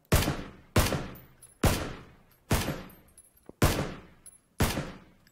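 Gunfire in PUBG: six sharp, loud shots spaced under a second apart, each ending in a short decaying tail, with no voices over them.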